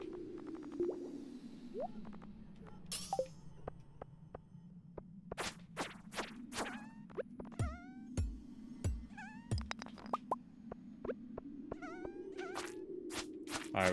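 Flies buzzing all around in a Stardew Valley–style farming video game played on a VR headset, a continuous droning hum with scattered sharp game chirps and effects layered over it.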